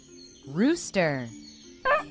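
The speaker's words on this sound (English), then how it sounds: "Rooster." A rooster crows once in a long rising-then-falling call, loud and close, followed by a brief second bird call near the end.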